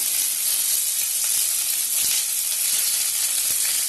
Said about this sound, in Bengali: এগুলোকে হালকা একটু ভেজে নেব।